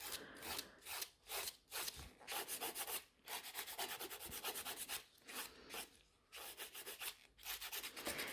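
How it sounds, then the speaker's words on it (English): A nail file rasps back and forth over a fiber gel overlay on natural nails, producing quick rhythmic scratchy strokes in short bursts with brief pauses, close and fairly quiet. "then the filing becomes much easier"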